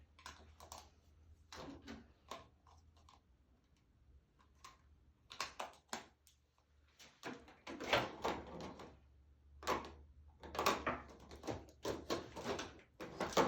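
A desk drawer of craft supplies being rummaged through for ink pads, with a series of irregular clicks, knocks and sliding rattles at close range, quiet with pauses between bursts.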